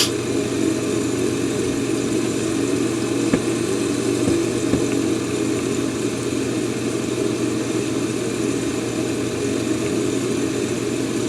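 A Piper PA-28R Turbo Arrow engine in a flight simulator game idles steadily, a continuous droning hum with a constant low tone, close and even throughout with no voices.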